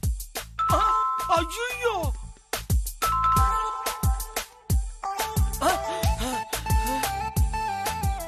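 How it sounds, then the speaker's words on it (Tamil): A ding-dong doorbell chime rings repeatedly in quick succession, loud and close, with a short spoken exclamation mixed in. "நீங்க அவசரப்பட்டு காலிங் பெல் அடிச்சிட்டு வந்துட்டீங்க"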